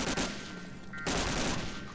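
Rapid automatic gunfire from a weapon in the World War II shooter game Medal of Honor: Allied Assault, dense bursts that stop for a moment and resume, loud and close with no talk over them.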